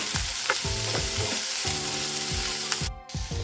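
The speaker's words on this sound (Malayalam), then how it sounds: "ഞാനൊരു രണ്ട് സവാളയാണ് എടുത്തേക്കുന്നത് അതൊന്ന് ചെറുതായിട്ട് കട്ട് ചെയ്തതാണ് ഒന്ന് നല്ലോണം വഴറ്റി കൊടുക്കാം" Two finely chopped onions sautéing in hot oil, a dense close sizzle with rhythmic spatula strokes scraping the pan several times, and no voices.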